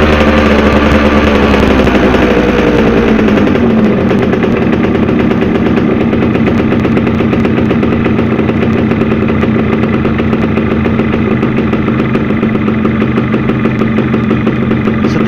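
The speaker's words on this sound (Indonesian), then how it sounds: "Setelah mesin sudah teriak, kita kecilkan gas sampai mendapatkan stasioner." Yamaha F1ZR motorcycle engine revved hard while its carburetor is tuned, a loud continuous rasping roar that eases off after a few seconds into a steadier, choppy idle-like running.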